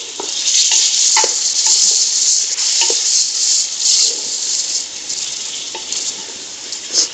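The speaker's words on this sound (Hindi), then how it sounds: "इसको अच्छी तरह से मिक्स कर देंगे प्याज के साथ।" Meat and onions frying in a pan for a badami white korma, with a constant bright sizzle close by and intermittent scraping clicks of a spoon stirring through the mixture.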